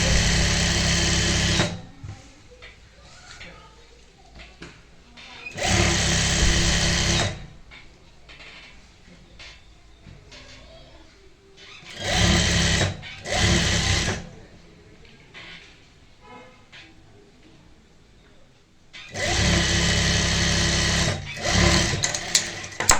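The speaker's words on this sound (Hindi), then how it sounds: "पक्का करेंगे और उसके बाद नीचे तक सिलाई लगाएंगे" A sewing machine stitches palazzo fabric panels in four loud, close bursts of rapid whirring, separated by quieter pauses filled with fabric handling.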